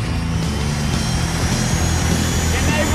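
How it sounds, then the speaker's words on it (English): A turbine-powered Y2K motorcycle gives a steady, loud jet-like turbine whine with a deep rumbling roar beneath it, continuous throughout and close by. "It sounds like a jet engine."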